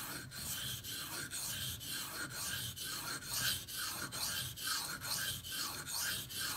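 Steady rhythmic rasping strokes of a Bark River Bravo EDC knife blade across a sharpening stone, evenly spaced and repeated, close and clear with no talking.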